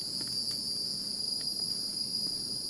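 Cicadas in the Central Catchment Nature Reserve in Singapore give a steady, high, piercing drone that runs unbroken throughout, loud and continuous, with faint ambient sounds beneath and no speech.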